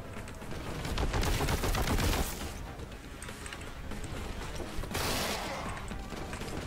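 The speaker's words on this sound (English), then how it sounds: "Who was shooting me?" Heavy bolter gunfire rattles in the Warhammer 40,000 shooter Boltgun, two loud bursts of rapid automatic fire separated by a short lull, with a busy mechanical din continuing beneath.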